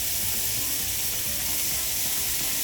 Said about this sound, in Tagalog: Ituloy lang natin ang paggisa dito hanggang sa lumambot yung sibuyas.